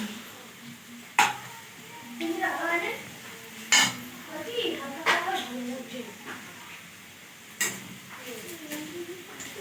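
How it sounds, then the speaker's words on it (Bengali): Onions being fried into crisp beresta for biryani in a home pot, with several sharp metallic knocks of a ladle against the rim and a soft sizzle beneath, while people talk nearby. "এখানে বিরিয়ানির বেরেস্তাটা বানানো হচ্ছে।"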